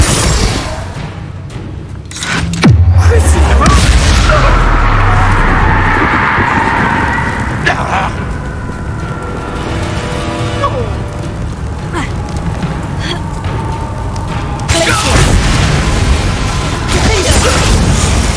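Confringo spell blasts in the Hogwarts Legacy video game, loud booming explosions and crackling impacts over continuous rumbling action, with a voice speaking over parts of it.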